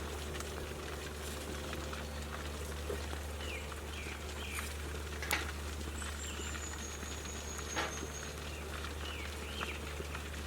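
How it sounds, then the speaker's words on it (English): Steady, close hissing roar of water boiling in a camp kettle, constant throughout, with a few faint bird chirps in the background. "Okay, so the water is now boiling."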